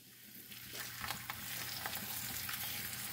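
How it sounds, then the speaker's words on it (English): Roti cooking in a little oil on a medium-high flame for Jamaican curry chicken and roti, a close, continuous bright sizzle that swells slightly as it goes, with no talk. "So we're just going to add a little oil, and our flame is on a medium-high heat. And we're just going to start adding our roti."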